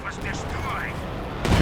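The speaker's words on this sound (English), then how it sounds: "40mm artillery coming in as well." In the strategy game Company of Heroes 2, a commentator talks over distant battle noise before a heavy 40mm artillery impact booms in at the very end.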